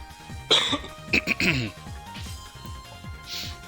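A few sharp coughs and a throat clear ring out close to the microphone over a steady background hum and periodic clicks.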